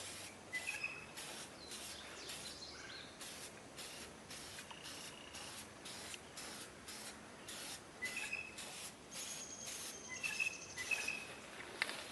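Repeated hissing bursts of spray paint coat a Swisher three-wheeled lawnmower engine, close and steady with short pauses between passes and no voices.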